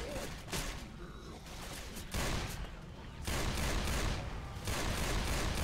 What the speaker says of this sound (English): I'm just running my guns as fast as I can shoot right now